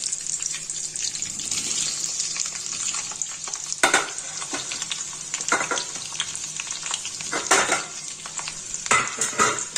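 Potatoes go into hot oil with a spice tempering. A continuous frying sizzle runs under repeated scraping stirs, with sharper clatters of the spatula against the pan around the middle and near the end.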